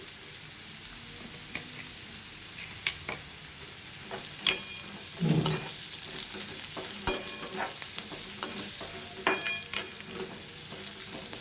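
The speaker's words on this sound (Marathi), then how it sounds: "दोन ते 3 मिनिट आपल्याला गोबी परतायचं आहे। यात जाणार बारीक कट केलेलं गाजर।" Shredded cabbage and finely chopped carrot stir-fry in a pan with a continuous sizzle, broken by scraping and clattering strokes of a spoon at irregular intervals.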